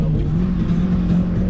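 A Toyota Starlet's small-block engine revving at a grass drifting event, a steady loud drone with a strong low hum that holds throughout and rises slightly in intensity, with no voices over it.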